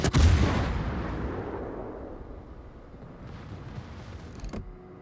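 Ship guns fire a heavy salvo at the battleship Musashi in a naval warfare video game, one loud booming blast that rolls and fades over several seconds, followed by a fainter mechanical clank.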